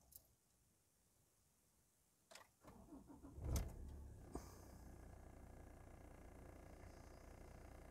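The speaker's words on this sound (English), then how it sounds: "Now I'm about to start the car." A Ford Ranger cranks and fires up after its battery is replaced: a quiet lead-in, then a few clicks, a brief starter whir and a catch, settling into a steady, close idle hum.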